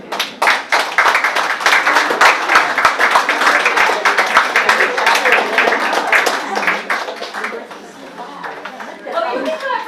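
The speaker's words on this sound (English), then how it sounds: "Oh, you can clap for me." An audience at a poetry festival claps steadily for about eight seconds, mixed with lively crowd chatter, before the applause thins out and a few voices remain.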